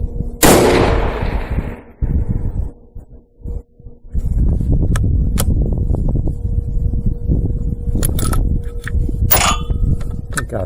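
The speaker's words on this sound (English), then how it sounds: "I'm just shooting off a sandbag" Remington 700 rifle fired off a sandbag: one sharp, loud report at the start with a lingering echo, followed by clunky handling noises and a few small clicks.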